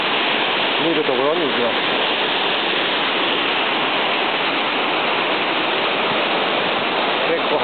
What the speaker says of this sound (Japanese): これが硫化の滝ですけどね、もっと上の方から来ます